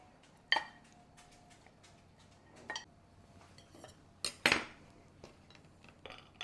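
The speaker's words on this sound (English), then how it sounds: "now we're going to cut our cornbread" A knife or utensil cuts into Johnny cake cornbread in a baking dish, making several sharp, separate clinks and scrapes against the pan with quiet gaps between them.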